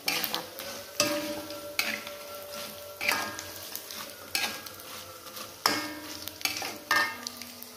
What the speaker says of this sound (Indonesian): Lalu kita goreng ya asinnya